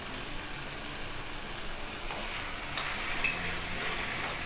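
Tomato thokku with chilli powder sautéing in a pan, a steady, dense sizzle holding evenly throughout with faint stirring scrapes near the end.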